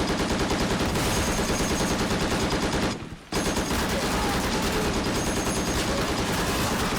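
Sustained machine gun fire from a Pacific War battle scene, a dense, continuous roar of rapid shots that cuts out for a split second partway through before resuming just as loud.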